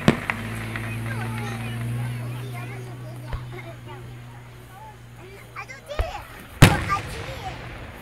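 July 4th fireworks burst outdoors at night, a few deep booms and one sharp loud crack standing out over a low continuous hum and crowd murmur.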